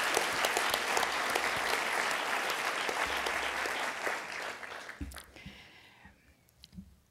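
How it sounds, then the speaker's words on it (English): Audience applause after a talk at a Black Power Movement event, a dense steady burst of many hands clapping that fades out over the last couple of seconds, with a few isolated claps and faint sounds trailing. "So I think we should all give them another round of applause for this tremendous event."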